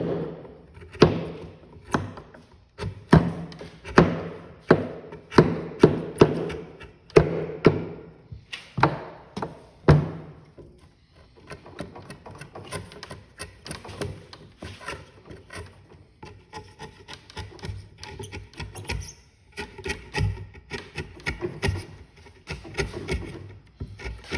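A chisel smooths wood on a rabbit cage under construction, giving a run of sharp, irregular taps and scrapes that are loud at first, then quieter and busier after a brief pause.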